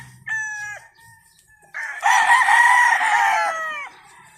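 Roosters on a game farm in Canlaon, Negros Oriental: a short crow at the start, then a long, loud, full cock-a-doodle-doo rising and trailing off, with other fowl faintly around.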